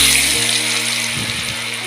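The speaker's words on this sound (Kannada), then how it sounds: "ಈಗ ಎಣ್ಣೆ ಕೈದ್ರಿ ಇದ್ರಾಗ ಹಾಕೋತೀನಿ" Sliced potatoes drop into hot oil in a pan and start to fry, a loud, dense hiss that begins with a brief bubbling burst and then settles into a continuous close sizzle, no voices.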